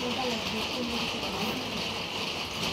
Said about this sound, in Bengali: অঝরে বৃষ্টি হয়ে যাচ্ছে